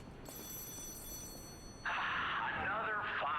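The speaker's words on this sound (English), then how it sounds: "Answer the mystery phone." A mystery telephone in the video game Lies of P rings with a bright, electronic, warbling bell that starts partway through and sounds loud and insistent over a faint ambient background.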